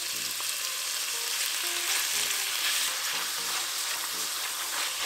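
Bacon frying in hot vegetable oil in a pot on a stove at medium-high heat, a steady dense close sizzle and crackle with occasional soft stirring scrapes, no voices.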